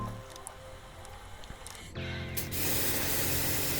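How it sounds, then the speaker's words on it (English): Snow foam sprays onto a Skoda Fabia during a wash, a quiet start then a sharp switch to a loud, close, continuous pressurized hiss that builds and holds steady. "Just spraying over a little bit more gives it extra dwell time and extra time to rinse away some of that contamination"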